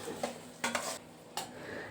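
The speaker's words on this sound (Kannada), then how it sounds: "ಬಾಣಲೆ ನಾನು ಸ್ಟವ್ವಿಂದ ಕೆಳಗೆ ಇಳಿಸ್ಕೊಂಡು ಅದಕ್ಕೆ ಮಂಡಕ್ಕಿ ಹಾಕಿ ಮಿಕ್ಸ್ ಮಾಡಿದ್ದೀನಿ" Puffed rice is stirred in a pan with a spice tempering, giving soft, close scraping and rustling strokes with a few sharper clinks, quiet and without talk.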